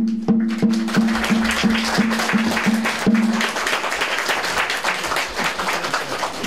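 Crowd applause at an outdoor Kuromori Kagura shrine dance festival during the Ebisu dance, a dense sustained burst of clapping that stays steady throughout, with a few sharper claps standing out early on.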